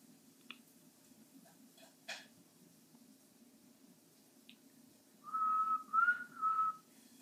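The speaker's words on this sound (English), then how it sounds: "I can still whistle." A person whistles a short, clear tune of a few notes near the end, following faint scattered clicks and drips in a quiet room.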